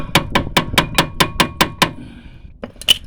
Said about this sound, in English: give it a tap in with a hammer